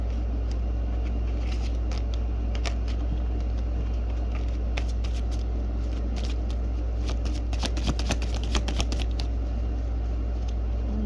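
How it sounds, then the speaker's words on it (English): A tarot deck being handled and shuffled at close range, bursts of crisp card riffles and slaps over a steady low hum, with no voices. "I'll be pausing and grabbing a tarot deck"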